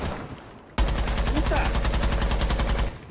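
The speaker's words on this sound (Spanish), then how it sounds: "Les di tiros, pero no murió ninguno." Rapid automatic gunfire in Tom Clancy's Rainbow Six Siege bursts in loudly after a short spoken word and rattles on continuously for a few seconds.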